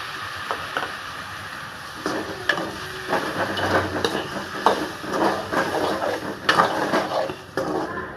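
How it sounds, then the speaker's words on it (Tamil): Tamarind water poured into a pan of onions and spices sautéing on the stove, giving steady sizzling with scattered clinks of a spoon against the pan throughout. "கொஞ்சம் புளி கரைச்சி வச்சுருக்கேன், அதையும் ஊற்றிக்கிறேன்"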